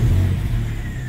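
A Nissan 350Z engine runs with a loud, deep rumble that eases slightly over about a second, heard close up with no talking.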